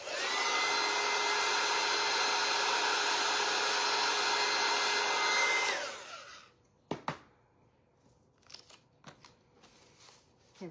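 A hair dryer blows steadily and loudly to dry paint on a wooden scoop, then switches off and winds down, followed by a few faint clicks and handling sounds.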